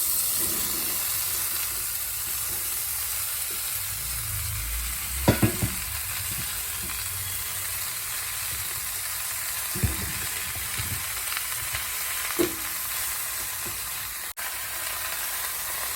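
Taro pieces frying in a hot wok make a low, steady sizzle, with a few sharp clatters and scrapes of stirring standing out above the sizzle.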